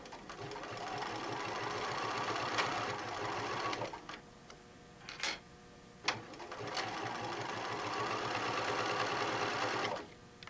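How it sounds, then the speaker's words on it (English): A sewing machine stitches on mesh fabric for a name tag and cell phone bag, a steady moderately loud whir with a rapid pulsing rhythm that briefly dips and stops around the middle before resuming. "the fact that you're sewing on a mesh, which is like sewing on air"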